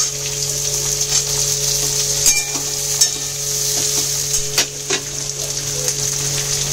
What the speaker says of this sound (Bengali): এবার এটা দিয়ে এটা একটু ফ্রাই হবে, হালকা ভাজা ভাজা হয়ে গেছে